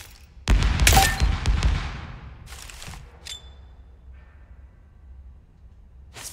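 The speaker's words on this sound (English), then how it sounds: "Splinter grenade out." A splinter grenade goes off in the shooter Spectre Divide with a loud, close blast. Crackling fragments follow and a long rumbling tail fades, then two shorter bursts sound before quiet ambience returns.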